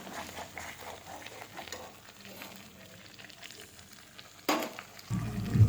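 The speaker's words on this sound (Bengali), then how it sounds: "পেস্টটা আমি খুব আগে কষিয়ে নেব কাজু আর কাজু পোস্ত আর কিসমিস দিয়ে যে পেস্টটা করেছিলাম" Cashew, poppy seed and raisin paste fries in a pan for shahi paneer, a steady close sizzle with stirring scrapes that swells louder near the end as more goes in.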